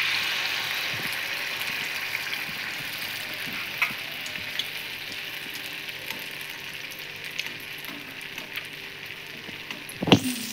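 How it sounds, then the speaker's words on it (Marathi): Malpua batter frying in hot ghee gives a steady, even sizzle and bubbling hiss throughout, close and moderately loud, with a small clink near the end. "तर मालपोहा तळून घेते आता।"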